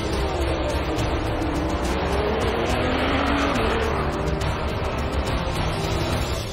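Audi R18 race cars roar continuously at Le Mans, a dense, loud engine drone with shifting pitch as the cars race past, steady throughout with no pause.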